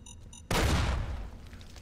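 A single loud explosion in the video game Fallout New Vegas bursts in suddenly after a brief quiet stretch, then rumbles and slowly fades over the following second.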